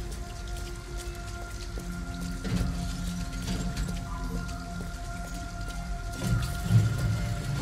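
Heavy rain pouring in a Detroit: Become Human game scene, a steady close hiss of drops beneath low tonal game music, with a faint rumble near the end.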